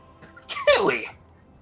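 A single sharp sneeze bursts out near the mic partway through, a quick inhaled catch followed by a loud explosive release, during a Total War: Warhammer team multiplayer session.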